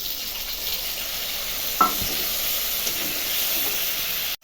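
Vegetables sizzle steadily in a pan as ginger, cumin and chilli paste go in, a constant close hiss with one brief soft knock partway through.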